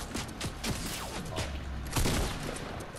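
Fortnite gunfire sprays at a player in rapid, dense bursts of close shots with mechanical clatter, loud and continuous across the moment.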